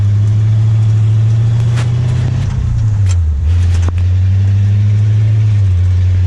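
A 1935 Ford car engine runs steadily at close range, a low droning hum that dips briefly and settles back, with a few clicks and rattles over it.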